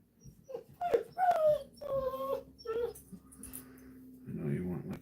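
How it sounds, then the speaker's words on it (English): Roxy the dog whimpers and whines in a series of high, wavering cries, close by, mixed with someone talking over it. "Roxy, calm down. You're just a dog."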